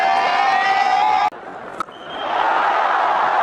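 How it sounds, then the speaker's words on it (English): Large cricket stadium crowd roaring and cheering at a T20-style match with Indian batters hitting big shots; dense, loud, sustained crowd noise that cuts out briefly and then swells back up. "The crowd are loving the power from these Indian batters."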